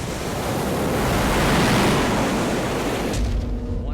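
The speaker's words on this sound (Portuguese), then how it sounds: "Uma dessas ondas grandes quebra bem no meio do barco." A large ocean wave breaks over a damaged boat on a reef, a loud, wind-buffeted roar of surging water that swells and then cuts off abruptly near the end.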